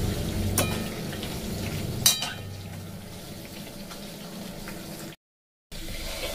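Nimki pastries deep-fry in hot oil with a continuous soft bubbling sizzle, a few sharper crackles standing out near the start, and a short silent gap near the end.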